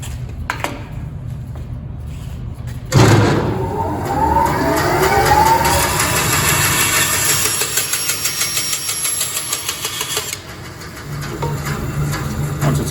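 A 4-inch PVC pipe is cut with a powered saw whose motor starts abruptly and runs loud and steady for several seconds. It then drops to a lower hum, and no speech is heard.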